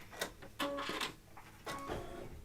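An embroidery machine stitches the last few stitches of a stained glass bouquet design, giving off bursts of mechanical whirring and tapping in short runs with brief pauses, close by and moderately loud.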